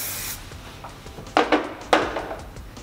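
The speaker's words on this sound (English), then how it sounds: "Spraying with your flexible hairspray," A can of flexible hairspray is sprayed onto hair in a quick opening hiss, followed by a few short sharp spritzes and light rubbing sounds, close up with no talking.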